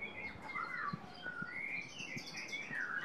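Murai batu (white-rumped shama) at a breeding farm, chirping in varied whistled phrases that rise and fall, moderately faint with light background noise and no voices.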